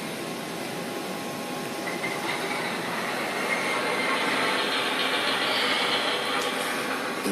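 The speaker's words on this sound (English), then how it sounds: "I'm going to press the startup key, and this engine right here should start up" A model train engine starts up on command from a DCS Remote Commander, giving a steady, close hum and rumble with faint high hissing that holds evenly throughout, with no talk.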